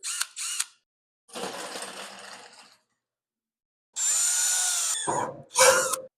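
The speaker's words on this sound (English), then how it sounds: "I'll be using an 1/8 inch drill bit." A power drill with a 1/8 inch bit whines in several short bursts separated by silence, drilling 1964 Ford headlight buckets, close and loud, with a higher-pitched run near the end.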